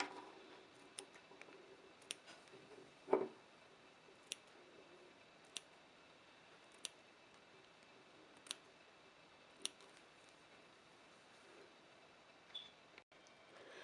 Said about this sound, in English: you're going to trim the fabric all the way around